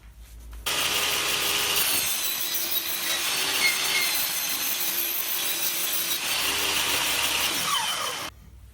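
A powered saw cuts a rebate in a wooden workpiece in a workshop, a loud steady whining, rasping cut lasting several seconds that starts and stops sharply.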